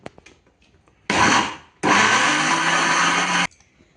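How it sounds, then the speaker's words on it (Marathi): A mixer grinder runs twice while grinding dalia with turmeric and asafoetida to a fine paste for dhokla: a loud short whirring burst, a brief break, then a longer steady grinding burst that cuts off abruptly. "आता हे सगळं मिक्सरमध्ये छान एकदम बारीक आपल्याला वाटून घ्यायचंय।"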